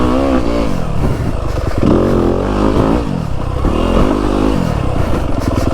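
A 2025 Yamaha YZ250FX dirt bike engine revs hard and close, its pitch sweeping up and down in repeated throttle blips over a loud, continuous mechanical clatter, with no voices.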